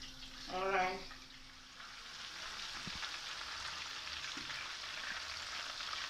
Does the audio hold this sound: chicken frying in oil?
yes